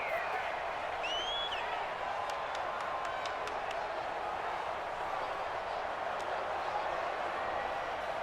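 Stadium crowd noise from a Madden 20 football video game, Dolphins at Patriots, a dense steady roar of the home crowd with scattered cheers and claps, held at an even level throughout.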